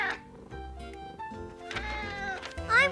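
A cartoon cat meows in a children's animated show, several drawn-out tonal mews in succession against a quiet background.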